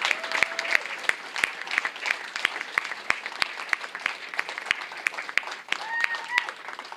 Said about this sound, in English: Everybody please join me in giving a big round of applause to all the candidates